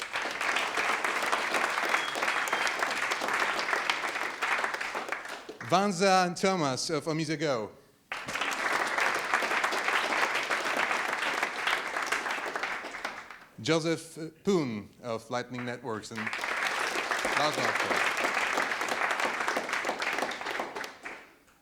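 Long bursts of audience applause at a Golem Berlin meetup fill a room, broad and sustained, broken by two short stretches where a presenter speaks over the fading clapping before it swells again.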